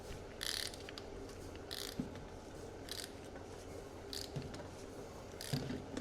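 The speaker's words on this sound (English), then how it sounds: "It's not even a breaker bar, it's a long ratchet." A long ratchet turns over a BMW B47 diesel engine during a teardown of a 44k-mile BMW X2 with a suspected spun bearing, producing repeated sharp clicking bursts at irregular intervals over a low mechanical background.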